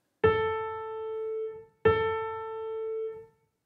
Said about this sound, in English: Here are two piano notes that are 880 and 885 Hz